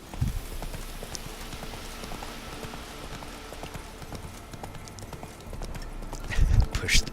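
Roach, Geralt's horse in The Witcher 3: Wild Hunt, trots along with a steady run of clip-clop hoofbeats, louder thuds near the end, while someone talks over it.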